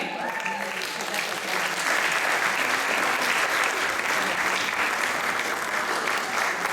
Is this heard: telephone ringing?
no